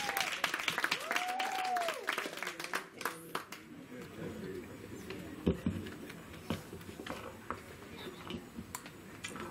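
Clapping at a family 50th birthday gathering comes in sparse, uneven claps amid room chatter and a singing voice at the start, then fades into scattered taps and murmurs.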